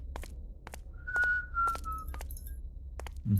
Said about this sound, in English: that whistling is so creepy.